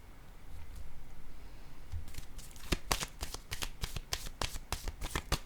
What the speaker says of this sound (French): Je vais déposer quelques cartes ici.